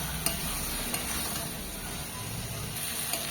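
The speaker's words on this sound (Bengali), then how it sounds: "একটু করে এইভাবে জল দেবো আর কষে নেব।" A poppy seed gravy with a little added water is stirred as it cooks down, a steady low sizzle carrying a few light spoon taps against the pan, with no talking.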